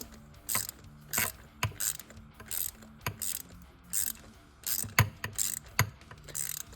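Ratchet wrench with an 18 mm deep socket snugging a bolt during a catch can install on a 2022-2023 Subaru WRX, a series of sharp clicking bursts in uneven strokes, close and clear with no talking.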